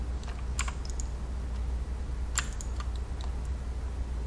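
Computer keyboard keys pressed during 3D modelling work in Blender, a few sharp separate clicks spread over a few seconds against a steady low room hum, with no talking.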